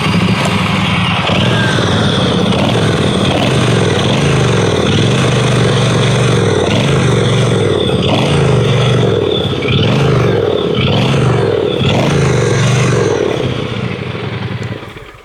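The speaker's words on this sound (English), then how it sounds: "let me give you a quick listen of the exhaust note of the motorcycle." A Brixton Cromwell 1200 motorcycle's exhaust rumbles loud and close for about fifteen seconds, idling with repeated throttle blips that swell and fall in a rough, throbbing pulse, with no talking.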